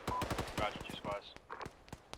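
Bursts of automatic machine gun fire in the Arma military simulation game, rapid repeated shots with short pauses, mixed with faint radio chatter.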